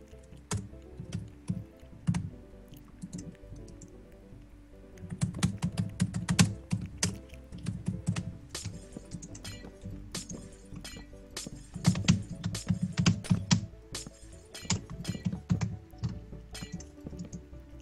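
Rapid computer keyboard typing during a Minecraft PC Build Battle, a dense flurry of close clicks and clacks in uneven bursts that grow busier midway, with no voices.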